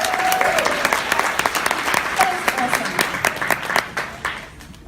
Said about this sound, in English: Can you just give yourself a round of applause?